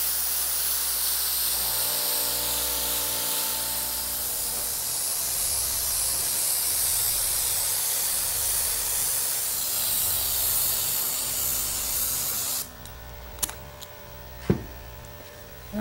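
A steady, broad hiss of spray adhesive (K-grip) being applied to a foam couch cushion runs for about twelve seconds, then stops, leaving a few scattered clicks and light handling noises.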